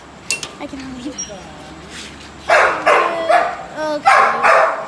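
A Labrador barks in short bursts at close range, several loud yaps in quick succession, with a person's voice and household movement heard alongside.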